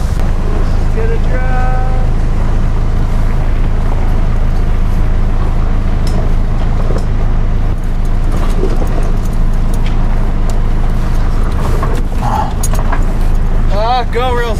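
A midsized truck towing a Taxa Mantis 5.2 overland trailer rumbles slowly through an off-road trench, its engine a steady loud drone with creaks and knocks over it, while people talk throughout.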